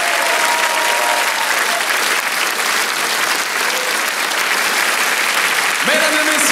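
A studio audience applauds a comedian at the close of his set on a Saturday-night Pigalle variety show, dense steady clapping filling the room throughout, with a host's voice rising briefly near the end.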